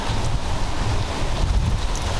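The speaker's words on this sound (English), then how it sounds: "as you can see, it's pretty windy" Strong hurricane wind from Hurricane Ian roars and buffets the microphone outdoors, a loud, steady, rumbling gale with gusty surges throughout and no voices.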